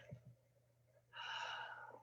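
During a yoga session, a person breathes deeply. Two brief soft intakes are followed by one long, steady, audible exhale, heard close and quiet.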